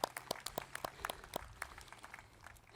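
Scattered applause from a Memorial Day ceremony crowd, sparse claps rising over a few seconds and heard at a distance, fairly faint with some background murmur.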